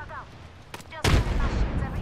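A grenade going off in a shooting video game: faint game sounds give way to a sudden loud blast with a sustained rumbling roar, and a brief voice is heard early on.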